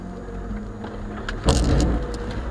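An off-road vehicle creeps along in first low gear without the differential lock, its engine a steady low drone close by, with a brief louder clatter and rattle of the body midway.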